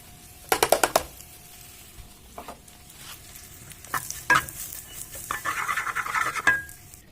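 Shiitake mushrooms stir-fried in rendered oil in a pan, a soft sizzle under a run of sharp metal spatula scrapes and clanks against the pan, close and uneven, with no talking.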